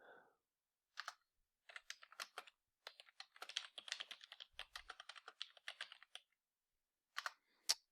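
Someone types on a computer keyboard in irregular bursts of crisp, close clicks, with short pauses between runs of keystrokes.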